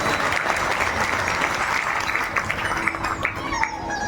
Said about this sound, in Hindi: दोनों परिवारों के लिए ताली जोर से।